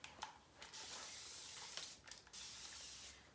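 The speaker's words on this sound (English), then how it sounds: "Just spraying it a little bit more" Several short bursts from a water spray bottle misting a piece of furniture before it is painted, some bursts brief and others drawn out, fairly quiet with pauses between.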